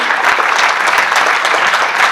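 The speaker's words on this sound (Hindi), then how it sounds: "जोरदार तालियां बजाओ मन से" A loud, dense burst of clapping from an audience at a Hindi comic poetry gathering at a girls' college, sustained evenly throughout.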